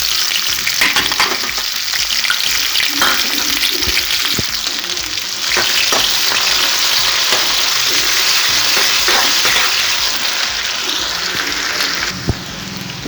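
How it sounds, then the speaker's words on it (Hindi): Chopped onion frying in hot oil with ajwain and cumin seeds in a pan gives a loud, continuous close-up sizzle with faint stirring scrapes throughout. "और मैं डाल देती हूँ इसमें प्याज।"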